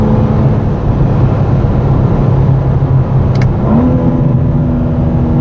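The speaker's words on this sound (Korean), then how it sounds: "이 엔진음과 배기 변속음은 엄청 좋거든요." Inside a BMW M2 on the move, the engine and exhaust drone steadily, then a quick gear shift lets the pitch drop and climb again, loud and close.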